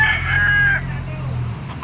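A yellow-legged sweater bull stag gamecock crows once, close and loud, at a fowl farm in Lipa, Batangas. The crow fades after under a second into steady background noise with low murmuring.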